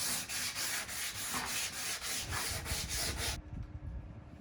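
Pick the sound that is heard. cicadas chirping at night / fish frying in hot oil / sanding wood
sanding wood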